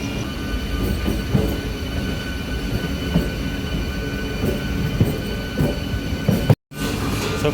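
Kharagpur to Howrah local train at night, heard from inside the coach as a steady rumbling run with periodic rail joint clicks and light wheel squeal, briefly cutting out near the end before the rolling sound resumes.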